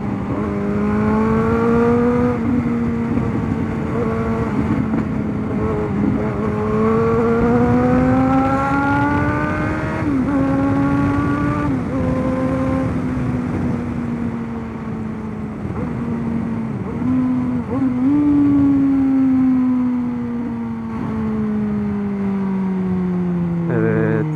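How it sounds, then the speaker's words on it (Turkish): A motorcycle engine drones steadily while being ridden through İzmir. Its pitch rises and falls with repeated shifts and throttle changes, loud and close, with no talking. "konuşmuyorum şu anda motorun sesini dinleyin diye."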